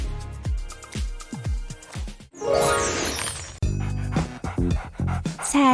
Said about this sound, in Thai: แกหอบหนักเลย ร้อนหรอ